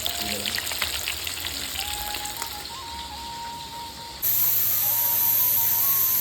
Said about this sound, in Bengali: বিভিন্ন মাছ ভাজা চলছে